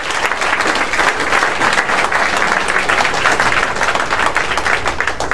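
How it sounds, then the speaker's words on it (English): Sustained applause from a large crowd at a Yamaha R1M owners event at MotoGP America, dense steady clapping filling the whole stretch at an even level. "Give him a big round of applause."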